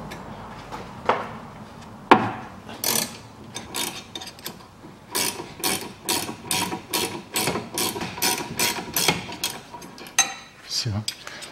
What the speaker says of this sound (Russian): И откручиваю гайку стабилизатора.